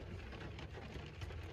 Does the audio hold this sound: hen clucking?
no